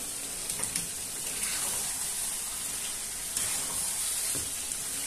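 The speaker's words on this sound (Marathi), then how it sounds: "मस्त हलवून घ्यायचा आता एकजीव." Chicken masala with homemade black masala and yogurt, village style, stirred in a hot pan, giving a steady sizzle with scraping strokes of the spoon at intervals and no voices.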